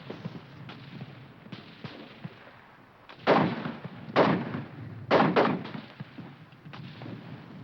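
Mortar and artillery fire in a war film: several sharp, heavy blasts at irregular intervals, with fainter distant thuds between them, fairly close and loud, with no speech.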